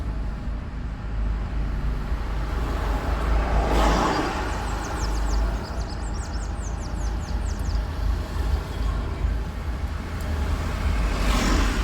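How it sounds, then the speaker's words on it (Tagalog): Slow road traffic on the way to the Eric Williams Medical Sciences Complex hospital makes a steady, dense rumble of cars and heavier vehicles, continuous and moderately loud. "Mahaba-haba itong traffic na ito dito papunta sa hospital."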